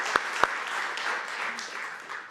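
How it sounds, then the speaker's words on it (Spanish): A church congregation applauds during a Sunday service, a brief patch of fairly faint clapping with two sharper claps at the start. "¿Por qué no damos un fuerte aplauso a Dios en primer lugar?"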